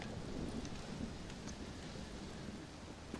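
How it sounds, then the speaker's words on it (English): Steady rain with a low storm rumble in a thunderstorm in the Red Dead Redemption: Undead Nightmare video game, a continuous dense wash of moderate loudness with no voices. "Well, it's just the storm, John."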